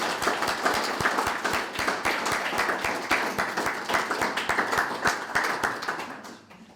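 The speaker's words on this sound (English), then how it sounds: "Let's give him another round of applause." A crowd applauds steadily, dense clapping sustained for several seconds before tapering off at the end.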